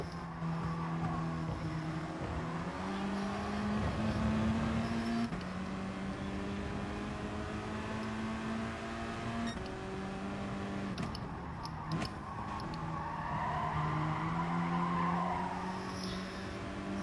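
Race car in GT Sport driving flat out during a two-car race, steady engine drone shifting pitch through gear changes, with intermittent tyre squeal and skidding, fairly quiet and continuous.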